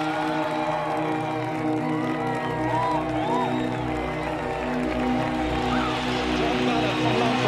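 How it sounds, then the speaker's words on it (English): A crowd roars continuously at a Galway hurling match, a loud sustained wash of cheering with a voice speaking over it throughout. "Crowd roaring on their encouragement"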